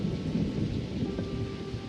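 Crashing thunder rolls through steady heavy rain in a game story scene, a dense low rumble under continuous hissing downpour with no voices.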